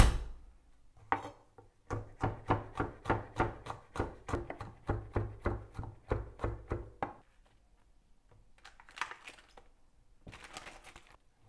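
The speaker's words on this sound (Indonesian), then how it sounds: "kita akan mempersiapkan mencincang bawang putih" A knife minces garlic on a cutting board in a quick, regular run of about twenty crisp chops, followed by a pause and a few softer scraping and tapping bursts.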